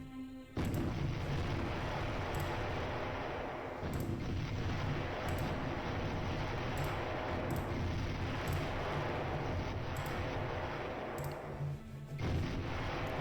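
Video game war-zone attack on an energy plant: a dense, loud barrage of booming gunfire and explosions that runs nearly unbroken, with periodic heavier blasts punctuating the roar.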